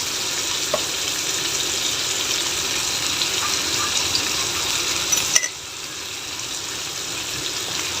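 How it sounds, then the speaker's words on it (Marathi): Prawns fry in a hot pan with a steady, close crackling sizzle and soft spitting, holding constant for several seconds before a sudden click and a slightly quieter hiss to the end. "हे बघा पटकन शिजतात कोळंबी पटकन शिजते त्याला वेळ नाही लागत"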